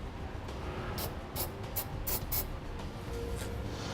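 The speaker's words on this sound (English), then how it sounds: "Then I'll put a little bit of spray paint on this as well." Several short hissing bursts of a spray paint can onto a steel bracket, quick spurts in a loose rhythm over a quiet background.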